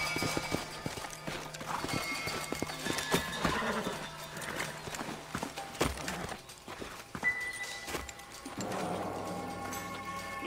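Horses in the Red Dead Redemption video game clip-clop steadily on the ground and neigh now and then, with hoofbeats close and loud over a busy background of game sound.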